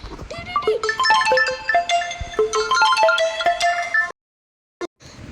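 A mobile phone ringtone from an incoming call, a bright melodic electronic tune of repeated tonal notes playing loudly for about four seconds, then cutting off abruptly into near silence with a brief blip.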